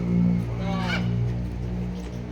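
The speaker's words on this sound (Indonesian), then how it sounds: "Burung kakatua dan juga burung nuri." Cockatoos and parrots call at the Orchid Forest in Lembang, with one harsh, honking squawk rising out of a steady outdoor background, moderately distant.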